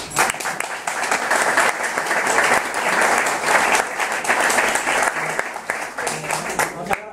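Dense audience applause fills the whole span at a steady, loud level, many hands clapping together in a hall after a request to honor someone, with faint murmuring voices beneath.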